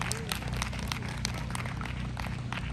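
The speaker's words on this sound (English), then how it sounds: "Let's give all of them a round of applause." An audience at a community anniversary event breaks into steady applause, a dense patter of many hands clapping at moderate loudness with faint room murmur beneath.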